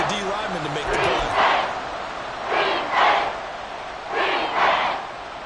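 Football stadium crowd at a New York Giants versus Washington game, roaring in rising and falling surges to force a false start, with a commentator talking over the din.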